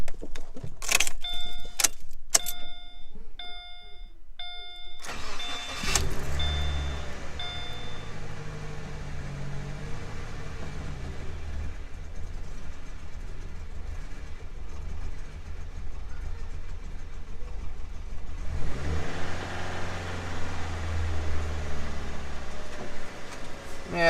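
A Subaru Impreza's engine cranks and catches after a jangle of keys and ignition chimes, then settles into a steady, rumbling idle that runs close and even, rising briefly again near the end while it warms up.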